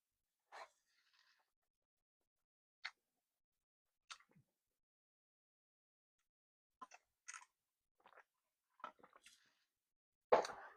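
Quiet, close crunching bites of Chinese spring rolls with lettuce, a handful of short separate crunches spaced across the stretch with near silence between, ending on a louder bite.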